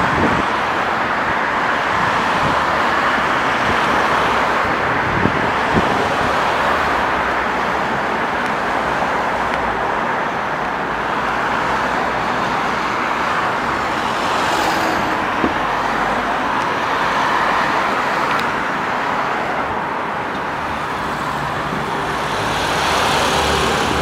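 Busy street traffic in Korea heard from the roadside while walking to school, a steady dense wash of passing cars, trucks and buses with no pauses and occasional louder vehicles going by.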